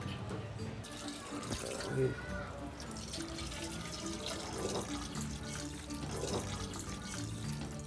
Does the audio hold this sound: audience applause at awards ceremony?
no